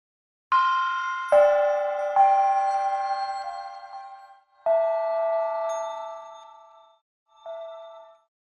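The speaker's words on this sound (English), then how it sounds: "Let's go a little higher with these tune gongs to see how it sounds." Tuned gongs from the Fracture Sounds Zen: Meditations sample library, played in a higher register: four clear metallic strikes, each ringing out with long shimmering decay, the last one softer and shorter.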